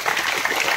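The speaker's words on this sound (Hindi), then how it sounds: "ताली बजाइए सब लोग।" Applause at a school prayer assembly, a brief dense patter of many hands clapping together, steady and fairly loud throughout the short moment.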